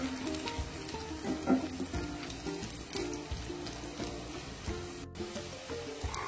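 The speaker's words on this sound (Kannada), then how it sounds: "ಇವಾಗ ಇದಕ್ಕೆ ಕರಿಬೇವು ಆ್ಯಡ್ ಮಾಡ್ಕೊಳ್ಳೋಣ." Curry leaves sizzling in hot oil for shavige uppittu: a steady, close frying hiss with faint crackles and a little clatter, no voices.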